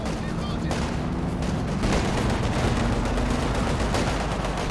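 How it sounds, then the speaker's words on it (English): Artillery and gunfire rumble continuously in a Company of Heroes 2 2v2 battle while a mortar shell comes in. Loud, dense battle noise with sharp cracks over a constant low roar. "mortar coming in from Tommy"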